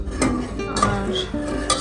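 Payesh, a rice pudding, cooking in a pot as a spoon scrapes and clinks against the metal in a few quick close strokes.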